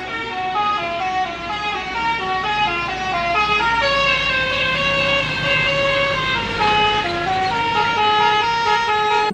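Budiman bus sounding its telolet horn in a steady run of bright melodic toots that step between pitches, loud and continuous with road noise beneath.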